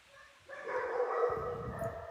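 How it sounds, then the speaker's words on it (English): Dogs bark in a short yappy burst heard faintly in the background of a live online call, with a couple of quick barks and whimpering yips over about two seconds and no talking. "That's Maddie's dogs."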